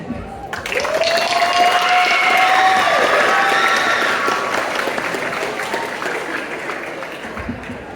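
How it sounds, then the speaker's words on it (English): Applause and cheering from an audience at a school Black History assembly, a broad sustained wash of clapping with whoops and shouts that starts abruptly, stays loud for several seconds and slowly tapers off. "Let's clap them out with energy."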